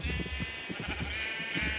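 Sheep bleat repeatedly in the video game Minecraft on a farm, a run of short nasal calls close by over a steady bright background tone.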